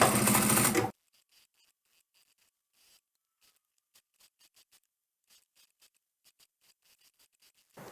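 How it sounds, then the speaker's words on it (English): A sewing machine stitches separate fabric layers, heard as faint, rapid ticking patter in short uneven runs, with a loud burst of sound at the very start and again at the end. "put each individual layer under the machine and stitch the individual layers separately"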